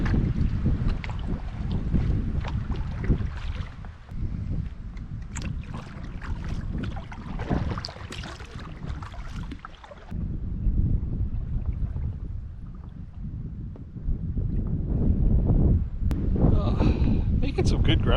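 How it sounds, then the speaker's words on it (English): Steady stiff wind blows across a canoe on open water during a forest canoe trip, a continuous broadband rush buffeting the microphone, loud and close throughout with brief people talking over it. "Got just a nice stiff wind at the back."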